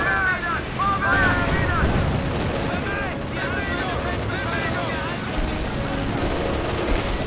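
In Company of Heroes 2, on the Ettelbruck Station map, an artillery bombardment rumbles on with continuous booms and gunfire while players talk over the barrage.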